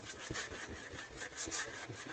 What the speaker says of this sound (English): we're definitely gonna sand this guy down here again,